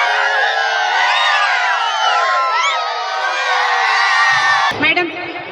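A large crowd of children cheers for rangoli competition contestants, a dense, loud wall of overlapping high shouts and whoops that holds steady throughout before breaking off near the end.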